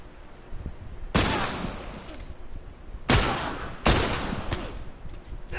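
Bursts of gunfire in The Last of Us Remastered come as three loud, sharp volleys with reverberant tails over a low background rumble.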